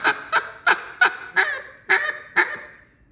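A duck call blown in short single cuts to finish mallards during a sunny hunt in Arkansas flooded timber: seven sharp, evenly spaced quacking honks, loud and close, fading after the last note.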